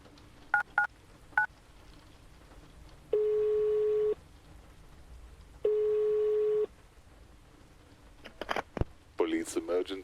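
Short dialing beeps give way to two long, steady ringback tones as a phone calls the police in the video game Lorelai, followed by clicks and a brief electronic burst at the end.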